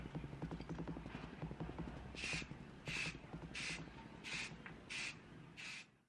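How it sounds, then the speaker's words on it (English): A spray can sprays white bone primer from directly above in six short, evenly spaced hisses, quiet and close, each burst about a third of a second, with a soft low rumble of handling underneath. "I'm going to spray that directly from above."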